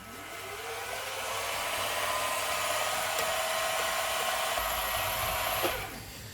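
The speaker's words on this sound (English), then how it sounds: "swapped over to a better end mill. Carbide again, high helix angle, bit sharper as well" A sharp carbide high-helix end mill cuts a vice stop on a milling machine, a steady loud whining buzz with a rising spindle tone that holds evenly for several seconds, then tapers off near the end.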